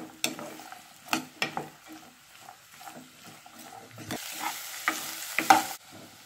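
Carrots sautéing in a pan for a mixed vegetable pickle, with scattered stirring scrapes and soft sizzling that thickens into a denser hiss toward the end, close and moderately loud with no talk.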